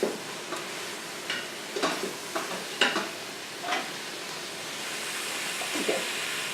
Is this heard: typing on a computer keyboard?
no